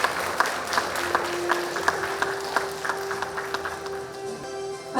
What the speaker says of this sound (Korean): 여러분의 따뜻한 박수 다시 한번 부탁드리겠습니다